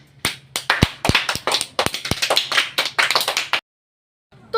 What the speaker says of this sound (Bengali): এটা শুনেও আমি নিজে দাঁড়িয়ে হাততালি দিচ্ছি।